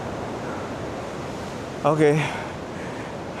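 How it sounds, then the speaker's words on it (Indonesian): Strong ocean waves crash out of sight behind trees as a steady, loud broadband wash of surf and wind, with one short spoken word over it. "Deburan ombaknya kenceng banget cuy"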